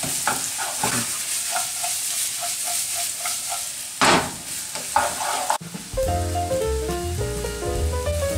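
Garlic, onions and chicken sizzle steadily in a hot pan while being stirred, with rhythmic scraping and tapping over a constant frying hiss, followed by music near the end.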